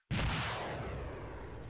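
A single heavy blast goes off suddenly at close range in a military exercise, loud and broadband, then trails into a long rumbling echo that fades slowly.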